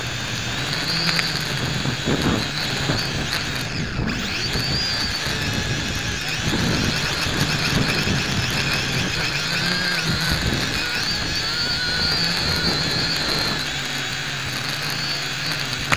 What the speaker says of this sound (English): It's a very light drone, so I wish it was a bit more powerful,